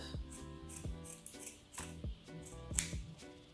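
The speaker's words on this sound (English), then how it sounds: "So I'm just gonna cut the hair in half." Scissors snip through long synthetic braiding hair for faux locs, a series of about six crisp, evenly spaced cuts, close and quiet with no talking.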